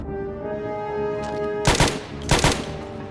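Two loud, close bursts of rapid automatic gunfire crack out in the Project Zomboid video game, about half a second apart, over a steady humming, tonal background drone.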